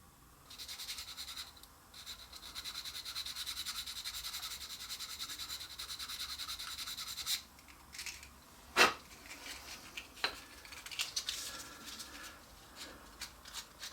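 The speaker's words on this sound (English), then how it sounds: "You want to carefully sand that because we want nice crisp corners here in order for the air to pass over." Sandpaper rubs steadily inside a wooden slide whistle to clear burrs, a close continuous scratchy rasp for several seconds, then breaking into short scattered strokes and taps.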